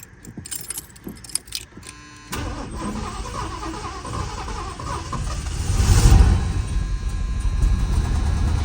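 Keys jangle near the ignition, then a 1977 Lincoln engine, started after sitting in storage, cranks and catches, settling into a loud, rough idle that revs up briefly.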